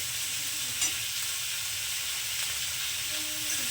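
Onion and garlic fry in oil in a pan with an even, close, steady sizzle and hiss throughout, broken by a faint stir or two, with no voices.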